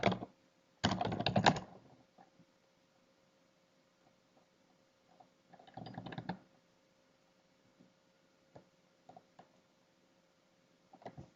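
Typing on a computer keyboard while laying out a brochure in publishing software: two short, dense bursts of rapid keystrokes, close and fairly loud, separated by sparse single clicks and quiet, with no talking.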